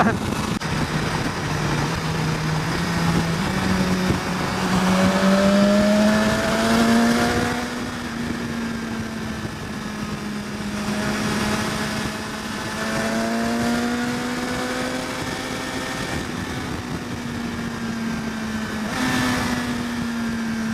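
A 2016 BMW S1000XR motorcycle engine drones steadily through a test ride, its pitch rising and falling with the throttle under wind noise, with a voice talking over it at times.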